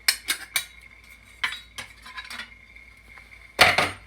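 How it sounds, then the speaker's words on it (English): A lid being removed from a tin can of beans, with sharp metallic clinks and scrapes in short bursts and a louder rattle near the end, no talking. "just to take the lid off without cutting my fingers"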